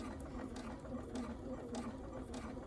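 A sewing machine runs a seam on a fabric doll, a continuous quiet motor hum with fast regular needle clatter, steady from start to finish with no talk.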